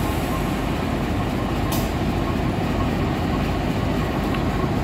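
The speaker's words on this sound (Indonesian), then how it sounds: "Ini rangkaian dari kereta api Sancaka, teman-teman." A Sancaka passenger train, bound from Yogyakarta to Surabaya, rolls steadily past at a station, its loud, continuous rumble and wheel noise filling the scene close by without a break.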